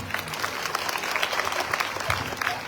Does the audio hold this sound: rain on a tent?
no